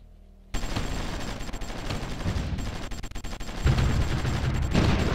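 Artillery and gunfire in the Supreme Ruler Ultimate strategy game: after a brief quiet start, dense overlapping shots and booms roll on continuously, loud and steady, swelling again toward the end with no talk.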